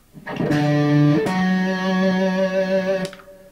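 Two guitar notes sound together and sustain, with a brief note change early on and a bright attack, ringing clearly for a few seconds before cutting off.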